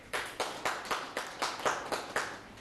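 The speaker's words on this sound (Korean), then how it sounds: "저분에게 박수." A lecture audience in Korea claps together in a short burst of applause, the hand claps landing in a steady, fairly quick rhythm at moderate volume, with no voices over them.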